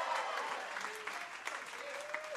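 An audience claps steadily at a comedy show, a dense wash of applause with a voice faintly present underneath.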